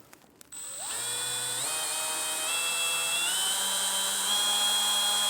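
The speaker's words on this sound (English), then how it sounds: "we'll want to drill out a little pilot hole" A high-pitched power drill whines steadily drilling a pilot hole through a vehicle roof, its pitch stepping up a few times as it bites through material, close and loud.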